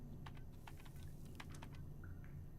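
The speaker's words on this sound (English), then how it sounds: "I was typing it" Fast, uneven keystrokes on a computer keyboard during a Call of Duty Black Ops 6 campaign session, clicking in short bursts over a steady low background hum, with no one talking.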